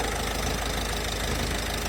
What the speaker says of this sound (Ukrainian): Оце вам моторчик.